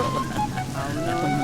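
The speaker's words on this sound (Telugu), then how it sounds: "మంచి వాన." Heavy rain falling steadily, a dense continuous hiss that fills the whole moment at close range, with faint tonal background sounds mixed in.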